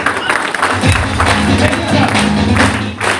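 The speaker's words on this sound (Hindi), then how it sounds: "तो साहब ताली बजा दीजिए एक बार।" An audience at a business seminar claps together in a dense, continuous burst, fairly loud and close, while a voice carries on underneath.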